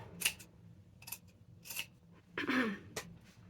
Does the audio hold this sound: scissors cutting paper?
yes